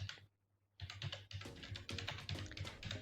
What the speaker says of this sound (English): So we can type here croquet